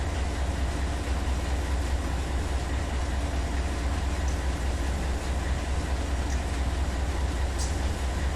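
Simulated loaded freight train of about 9,000 tons of rock rolling along in Run 8 Train Simulator, a steady dense low rumble and rail roar that stays even and continuous throughout with no talk.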